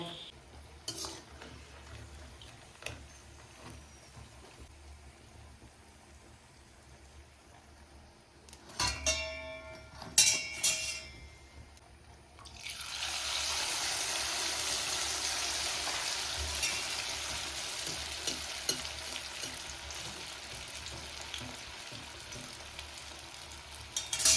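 Batter sizzles and fries in a hot pan, a steady loud hiss rising after some clattering stirring and scraping of utensils.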